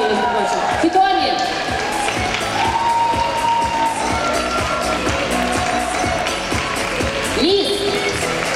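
An audience at the MAniFest 2018 award ceremony applauds and cheers steadily, a dense wash of clapping and crowd noise mixed with music and voices, with louder bursts near the start and end.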